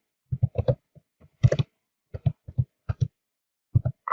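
Password being typed on a computer keyboard: quick irregular bursts of close, crisp key clicks with short pauses between groups.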